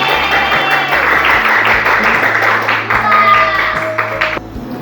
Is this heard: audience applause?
yes